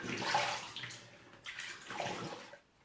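Water splashes and sloshes in a few uneven bursts, close and fairly soft, as if scooped up by hand.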